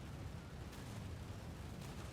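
Naval gunfire from the heavy cruiser Prinz Eugen in War Thunder, with 40mm Bofors anti-aircraft guns and shell hits, forms a dense, continuous rumble of overlapping blasts and bursts with no talk.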